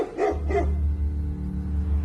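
Several dogs bay and bark at a bear holding a sow and cub in the woods, two sharp close barks standing out over a steady low rumble of background noise.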